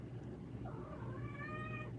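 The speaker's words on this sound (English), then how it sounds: "Hello, cat." A cat meows with drawn-out, rising and falling cries over a steady low background rumble, fairly close and clear, with no talking.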